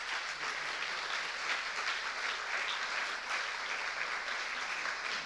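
Sustained audience applause for two authors at a Bibliotopia book festival interview, a dense, even roar of many hands clapping throughout with no speech over it.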